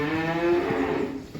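A nine-month-old heifer lets out a single loud, drawn-out moo close by that tails off toward the end, with no talk over it.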